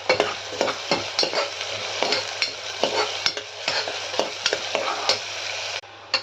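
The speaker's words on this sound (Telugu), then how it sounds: "ఆయిల్ వేడైనాక కొద్ది ఉల్లిపాయ పచ్చిమిర్చి వేయాలి. ఫైవ్ మినిట్స్ ఫ్రై అవ్వాలి ఫ్రెండ్స్." Chopped onions and green chillies fry in hot oil inside a pressure cooker for mutton curry, a constant sizzle punctuated by regular sharp scrapes of a stirring spoon against the metal.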